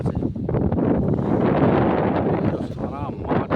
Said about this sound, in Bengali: এই যে হাওয়ায় সব গাছ একদম সেই ব্যাকা করে ফেলছে।